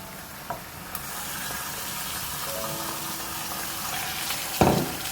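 Meat for chukandar gosht fries in a pot with a soft, continuous sizzle, punctuated by a couple of light clinks and a louder scraping stir toward the end; no voices.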